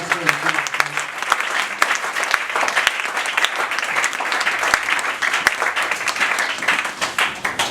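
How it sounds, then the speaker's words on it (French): A church congregation claps hard and continuously in a crowded hall, dense applause with scattered louder claps and voices mixed in underneath. "Acclamons très fort pour la gloire de Dieu."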